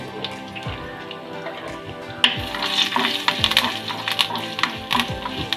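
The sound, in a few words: tempering spices sizzling in hot oil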